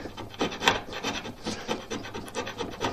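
A scraper works over a flat metal part for a Gingery shaper that was first filed with a rasp, giving close, loud, rhythmic rasping strokes in quick succession with no talking.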